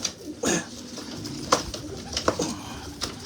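A flock of about nineteen kash pigeons cooing close by in a cage, with soft repeated throaty coos and a few sharper wing flutters or calls over a quiet background.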